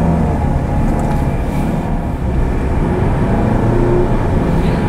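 Citroen C5 Aircross in sport manual mode with traction control off, accelerating hard: a loud, steady engine and road drone heard from inside the cabin, with no talking.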